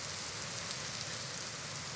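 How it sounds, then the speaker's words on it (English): Steady rain falls in the video game Vintage Story, a constant soft hiss of drops at even loudness with no other sounds. "this place has water, it's always raining"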